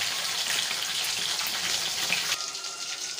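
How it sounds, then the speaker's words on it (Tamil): Chicken 65 pieces frying in hot oil give a loud, dense, steady crackling sizzle, close up and without pause, easing slightly in tone near the end. "பாருங்க, எண்ணெயில வெந்துட்டு இருக்கு"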